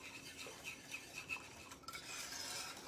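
Microwave lemon curd being whisked in a bowl, a soft quick scraping and tapping of the whisk against the sides, faint and close, with a brief clink near the end.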